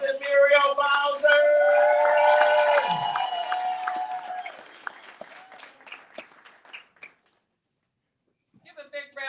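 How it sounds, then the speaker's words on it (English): A crowd at a boxing tribute event claps and cheers loudly while a voice rises over it, the applause thinning out and fading into near silence before speech resumes. "put your hands together"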